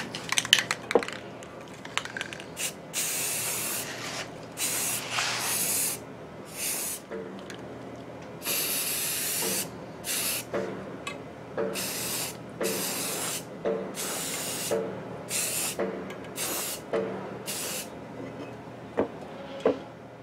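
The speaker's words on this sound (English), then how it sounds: "so I'm going to spray all the sides" Repeated short bursts of a spray can hissing close by as school desk parts are spray painted, separated by brief pauses and faint handling noises.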